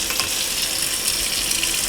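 Water runs steadily from a tap into a sieve while washing cornmeal, a constant close hiss and splash with no voices.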